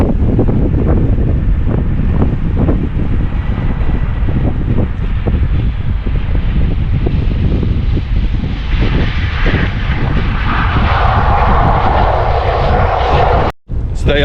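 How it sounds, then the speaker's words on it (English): A Jet2 passenger jet arriving from Alicante comes in to land at East Midlands Airport with a loud, continuous engine roar, and heavy wind buffeting on the microphone throughout. "Jet2 flight from Alicante just landing here at East Mids"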